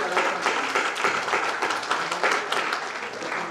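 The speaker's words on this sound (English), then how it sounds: "I would request you to please give a very big round of applause to" Audience at an inspirational speech competition gives a big round of applause for Kailash Pandey, a continuous, moderately loud wash of many hands clapping with slight swells, lasting the whole stretch.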